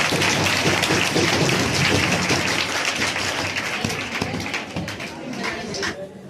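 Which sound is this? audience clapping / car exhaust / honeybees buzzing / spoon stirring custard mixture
audience clapping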